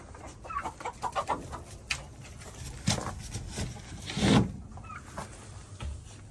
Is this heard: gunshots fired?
no